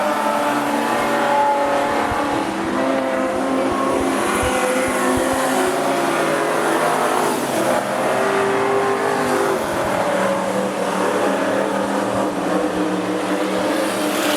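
Race cars built with HQ Holden front-end components roar around Rockhampton Speedway, a loud continuous din of revving engines rising and falling as they race past, with no talk over it.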